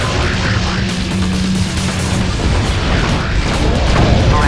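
Explosives detonating on station towers in Ratchet Deadlocked, a continuous rumbling barrage of deep booms and bursts, loud and sustained without pause.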